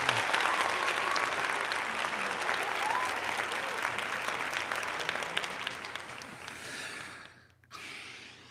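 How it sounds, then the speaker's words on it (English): Sustained applause from a small crowd at a live event fills the clip at steady loudness, thinning out near the end with a brief pause and a final burst. "Let's give me some applause."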